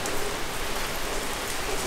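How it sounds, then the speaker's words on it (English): Sudden rain pouring down outdoors beside a parked BMW M3, a dense steady hiss of drops hitting surfaces, close and continuous with no voices. "the rain comes out of nowhere"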